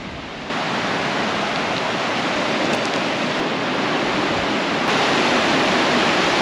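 Patagonian river along the Carretera Austral near the Cerro Castillo trail, a loud, steady broadband rush of flowing water that swells in after a brief quieter start, with no voices.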